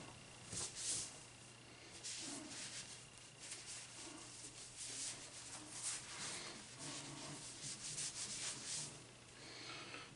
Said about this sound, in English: Just washing the bowling balls that I got today from the thrift store.